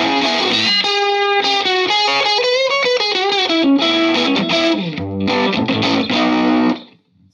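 Electric guitar through an overdrive pedal on an open setting with extra distortion, a clean, sustained run of melodic notes with warm breakup that rings continuously and fades out at the end.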